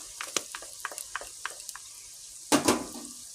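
Meat cooks with onions and ginger paste in a pan as a spoon taps and scrapes in a quick series of light strokes over a faint sizzle, followed by a louder burst of frying near the end.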